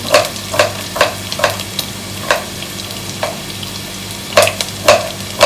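Onions sizzle in a hot pan under a steady frying hiss, punctuated by regular scraping stirs.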